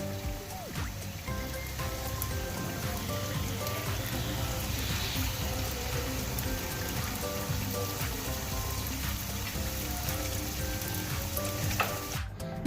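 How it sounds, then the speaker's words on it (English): Onions sauté in oil beside a beef burger patty on a hot pan, a constant close hiss and crackle running beneath melodic background music. "we have some oil over it so I can saute my onions"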